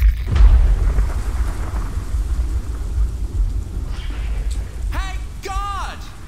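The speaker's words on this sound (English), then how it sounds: "there was lightning, and it was all windy" Thunderstorm effect with a deep rolling thunder rumble up front, then steady rain and wind noise, followed near the end by a few brief vocal-like swoops over the storm.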